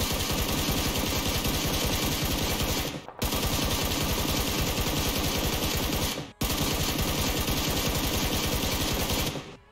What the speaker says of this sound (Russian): Заряжаем обойму и делаем выстрел